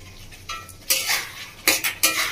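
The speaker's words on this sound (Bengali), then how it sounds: "লবণটা ভালো করে কষিয়ে নেব।" Salt stirred into frying lentil paste in a pan, several sharp scrapes and clinks of a utensil against the pan, close and distinct over a faint background.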